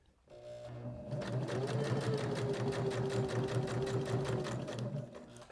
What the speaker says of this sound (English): Now we're going to do our stitching starting right here at our green.